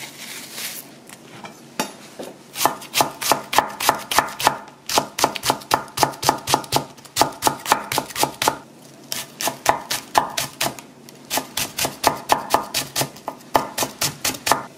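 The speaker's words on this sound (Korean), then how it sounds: "파를 곱게 다져서 썰어주세요" A knife finely chopping green onion on a cutting board, with rapid rhythmic taps in bursts and short pauses, close and clear, no voices.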